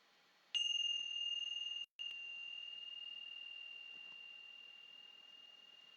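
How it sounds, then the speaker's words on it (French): A single bright meditation bell tone rings out and sustains with a long, slowly fading ring, briefly cut once, in an otherwise quiet space. "au son des cloches que je vais sonner, fermez les yeux"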